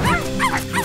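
Cartoon puppies yip excitedly in quick, high, whiny bursts, several short overlapping squeals close up with a soft whimpering tone.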